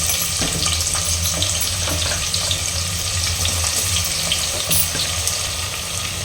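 Sliced onions dropped into hot oil with bay leaf, cardamom and other whole spices for chicken biryani, giving a steady crackling sizzle with scattered stirring clinks throughout.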